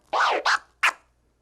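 Three quick turntable scratch strokes, a reverse slice then a forward stab: a longer sweeping slice, a short bump, then a brief sharp stab, close and loud with no talking.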